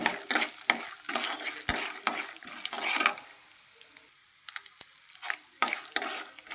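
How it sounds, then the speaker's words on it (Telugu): Peanuts frying with cumin in a pan for curry leaves rice, brisk rattling and scraping as they are tossed, with bursts of sizzle that thin out toward a quieter stretch before the stirring picks up again. "వేరుశనగ ఇది ఫ్రై చేసుకోవాలి"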